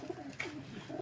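A rare white-eyed show pigeon cooing softly nearby, two or three low, muffled coos over a quiet background.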